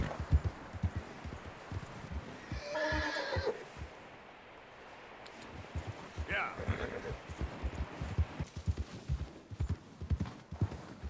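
Horse hooves clip-clopping steadily in Red Dead Redemption 2, with two loud neighs or whinnies cutting in, while someone talks over the game sounds throughout.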